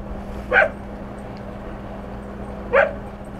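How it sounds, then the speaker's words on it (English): Two separate dog barks, one around half a second in and another near the end, sounding moderately close against a steady low background hum, with no speech. "Take a break there and see if the dog will quit barking."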